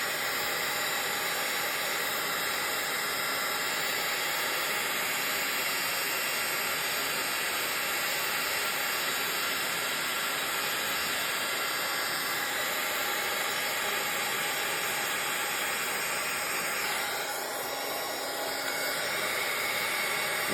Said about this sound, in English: Now, my heat tool here.